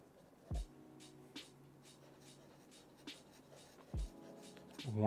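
Sailor fountain pen with a 21k gold nib scratching across paper in soft, close strokes, with faint thumps from handling the page and the desk breaking up the quiet writing.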